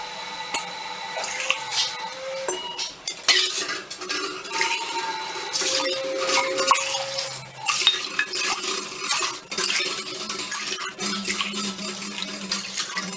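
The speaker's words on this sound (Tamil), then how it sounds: "மொத்தம் 6 கப் தண்ணி ஊற்றிட்டோம்" Water is poured into a metal pot in a home kitchen while making rice vathal batter, with splashing and trickling mixed with clinks of a cup against the pot, in intermittent bursts at close range.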